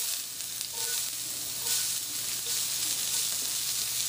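Chopped onions fry in hot coconut oil in a pan, giving a continuous, fairly faint hiss and crackle that holds steady throughout with no talk.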